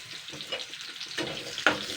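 Onions or spices lightly frying for chicken pulao, with a soft steady sizzle in the pan, scraping stirs and one sharp clatter near the end.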